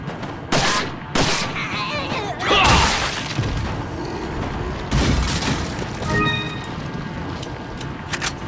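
Gunfire from the video game Resident Evil 4, heard as several loud booming shots spaced across the stretch with dense game noise and clatter between them.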